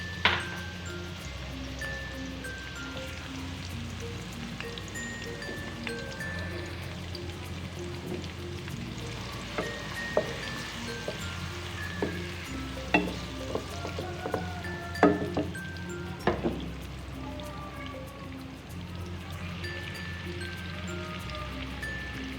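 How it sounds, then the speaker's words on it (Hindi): White onions frying in hot oil for a Chinese-style karahi, giving a continuous crackling, rain-like sizzle with scattered pops throughout, close and steady. "ये देखें मेरे पास प್याज हमने डाल दिया, हम इसे फ्राई करने रखे हुए हैं"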